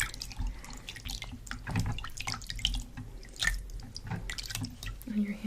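Hands are rinsed of a skin scrub in a bowl of water, giving close, soft splashing and dripping with gentle sloshing throughout, faint murmured talk underneath.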